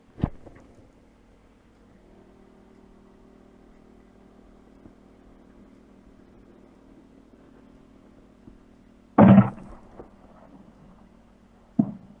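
Near silence with a low hum, broken by one loud, sharp boom of a mortar round firing, plus fainter thuds at the very start and end.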